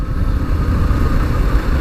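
A steady, loud engine rumble from a 2018 BMW G310GS motorcycle with low chugging and wind noise, constant throughout, heard while riding through the countryside.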